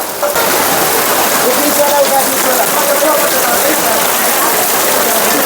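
Steady rain hisses continuously on the Gaurikund–Kedarnath mountain trek trail, a dense wash of falling water with faint voices mixed in beneath.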